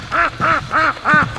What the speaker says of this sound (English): Oh, little duckies.